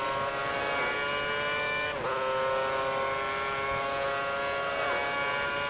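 Formula 1 car engine from the F1 2010 racing game at the Canadian Grand Prix, a sustained high-pitched whine holding steady down the back straight with pitch dips around gear changes, loud and continuous with no talk.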